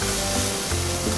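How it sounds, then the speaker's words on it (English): Steak sizzles on a hot grill, a dense, steady crackling hiss that fills the short moment up close. "We're gonna cook it. Make sure our steak is nice and good charred."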